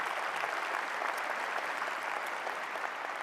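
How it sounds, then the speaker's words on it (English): A crowd at a swearing-in speech for the Illinois Secretary of State gives a loud round of applause, with dense, even clapping sustained for the whole stretch. "A loud round of applause."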